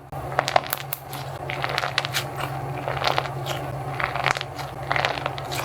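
A crunchy squishy toy is squeezed repeatedly close up, giving a string of sharp crackling, crunching snaps in irregular bursts over a quiet background.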